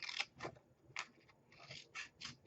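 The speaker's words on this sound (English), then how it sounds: "cut out that little ridge" Scissors snip through Photoplay patterned card paper while a gift card holder is being made, giving a series of short, crisp, close cuts in an uneven rhythm of about eight snips, with no speech.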